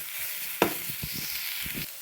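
Ingredients for kothu roti are stirred and sautéed in a pan, with one sharp scrape of the spatula followed by softer intermittent stirring knocks over a faint low sizzle.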